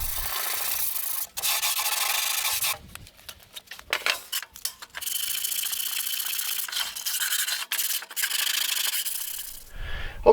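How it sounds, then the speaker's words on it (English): A sander works over plywood cabinets in long continuous rasping passes, stopping briefly now and then and resuming; loud and close, with no talking. "I'm going to try to sand these"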